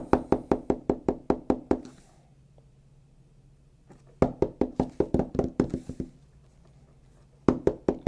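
Someone knocks on a door in quick, insistent bursts of about eight raps each, separated by pauses of silence, loud and close.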